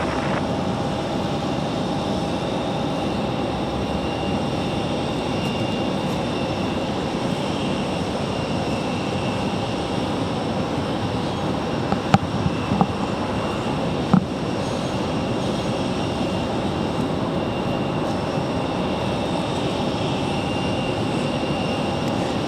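A Southwest airliner on its takeoff roll from runway 5 right at Raleigh-Durham International, a steady broad engine roar holding loud and even throughout, with a few faint clicks partway through and no voices.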